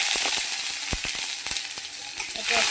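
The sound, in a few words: tomato frying in oil with cumin and bay leaf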